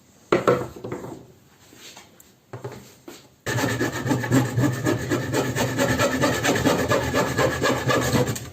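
Steady back-and-forth rasping of a hand saw cutting wooden slats, loud and close, after a few brief scraping strokes.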